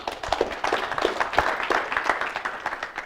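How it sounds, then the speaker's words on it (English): A conference audience claps steadily throughout, a dense patter of many hands at moderate volume with no voices over it. "applause for Bart."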